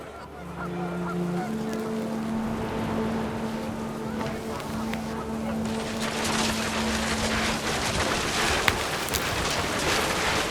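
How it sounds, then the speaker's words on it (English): Panicked geese honk in a flurry in the video game What Remains of Edith Finch, over a steady rushing roar of wind and rain, with rising noise in the second half. "The wind picked up, and panicked geese appeared and quickly went."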